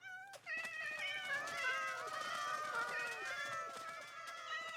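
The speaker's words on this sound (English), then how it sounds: "But yeah, these are the cats now." Several cats in the Minecraft video game meow and caterwaul over one another in a steady, dense chorus of overlapping high cries, close and continuous, with no talking.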